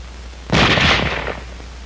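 A single rifle cartridge fires with a sharp, loud blast, followed by a short decaying rumble and a quick tail of echo.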